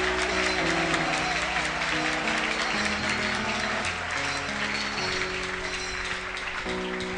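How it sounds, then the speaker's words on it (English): A church congregation claps hands for Jesus over steady worship music with sustained chords, the clapping a constant busy texture running beneath the music throughout. "let's clap our hands for Jesus"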